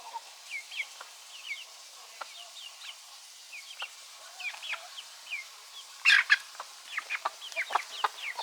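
Hen clucking indoors near a brood of chicks, a string of soft, scattered clucks and chirps at a fair distance, with one louder flurry midway that may be wing flapping.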